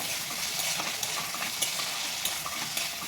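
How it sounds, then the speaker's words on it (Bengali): Chopped tomatoes are stirred into chicken chow mein in a hot pan, producing a dense, close sizzle with rhythmic scraping strokes of the utensil. "এরপরে কেটে রাখা টমেটোগুলো এটার মধ্যে দিয়ে দেবো। এটাকে ভালোভাবে একটু নাড়বো।"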